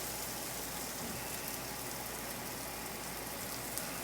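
Onion sizzles in butter and rendered pork fat in a pan, a dense, steady hiss and crackle like rain that runs without break, even and moderately loud, with no talking.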